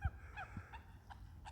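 Water birds on a lake honk and squawk in short, scattered bursts, a handful of faint calls spaced out across a quiet background with no speech.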